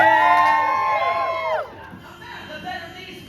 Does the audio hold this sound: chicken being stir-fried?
no